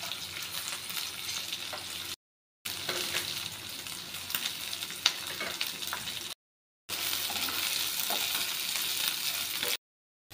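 Onion fries and is stirred in a pan for hotel-style soyabean chilli, a steady close sizzle with faint spatula scrapes, cut by brief silent gaps.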